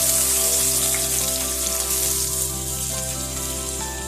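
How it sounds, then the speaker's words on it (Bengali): Chopped onion fries loudly in hot oil for a Bangladeshi rohu fish curry, a dense continuous sizzle close up with a steady hum underneath. "এবার পেঁয়াজ কুচিটা দিয়ে দিলাম।"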